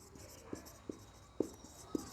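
Marker or chalk strokes tap and scrape on a classroom board in four short, distinct bursts spaced about half a second apart, quiet and close with no talking.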